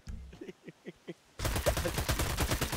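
Gunfire in GTA 5 roleplay, a sudden dense burst of rapid shots erupting after a few quiet spoken words and continuing loudly to the end.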